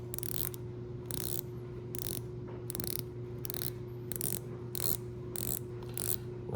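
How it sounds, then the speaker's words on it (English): A Squale 500 meter professional 1521 dive watch's unidirectional bezel is turned click by click, producing a crisp, evenly spaced series of about ten close ratcheting clicks over a low steady background hum. "Nice clicks, no back play."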